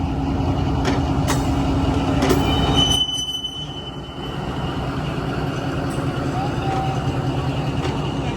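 A crowded train grinds and rumbles close by at a Pakistani railway station near the Gurdaspur border, with squealing wheels and metallic screeches, a sudden drop in noise, then a steady rolling clatter.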